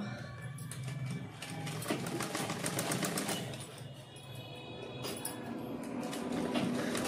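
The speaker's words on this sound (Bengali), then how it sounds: "এইভাবে তোমরা সেলাই করে নেবে। এইভাবেই দুটোই হাতা জয়েন্ট করে নেব।" Sewing machine stitching the sleeve of a blouse: a fast, steady mechanical whirring and clatter runs continuously at low volume, close by, with no voices.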